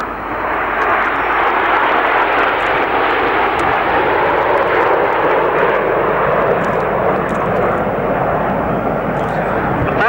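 Several aerobatic display jets trailing red and blue smoke roar overhead at an airshow, a loud, steady broadband jet rumble that fills the whole stretch while a commentator speaks over it.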